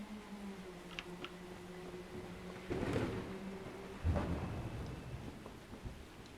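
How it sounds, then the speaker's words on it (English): In the Armstrong Powerhouse Sky & Weather Enhancement Pack 2.0 for a video game, steady rain hisses while two heavy thunder claps crack and roll one after the other, the second close behind the first. "I actually need to rebalance all my audio, just so that you can hear the sound of the rain."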